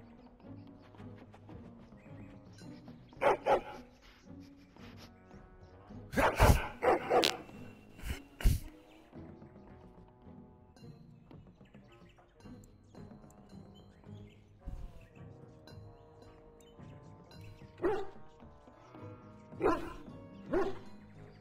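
Dog in the video game Dragon Age Origins barks in several sharp bursts amid game music and ambient tones, loud yelps clustered early and more barks near the end.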